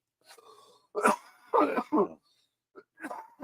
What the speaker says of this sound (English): I can't mute myself when I cough because these mics don't allow it.